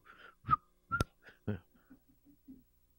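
A man whistles a tune in brief, halting phrases close by, soft and a little breathy, fading into faint low hums toward the end.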